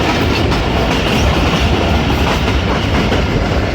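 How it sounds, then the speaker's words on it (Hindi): The Rehman Baba Express train, running from Rawalpindi to Faisalabad, rolls past Kala Gujran with a loud, continuous roar and rumble of wheels on the rails, heard close and without voices. "काला गुजरा से पास होगी ट्रेन हमारी।"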